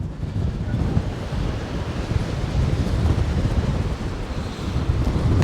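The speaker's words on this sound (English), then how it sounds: "it is so windy" Strong wind buffets the microphone on a cruise ship at sea, a continuous loud rushing with churning sea underneath and no voices.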